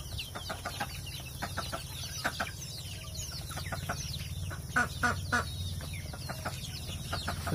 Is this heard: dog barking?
no